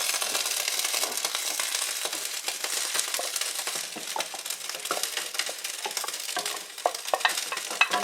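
A spoon scrapes and stirs through a soup pot as beef bouillon and stock are mixed in for beef noodle soup, a close, continuous rough swishing with occasional clinks against the metal.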